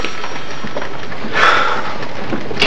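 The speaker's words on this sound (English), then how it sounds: "Oh, I hate rainy weather." Steady rain falls in a loud, even hiss, with a brief swelling gust of heavier downpour partway through.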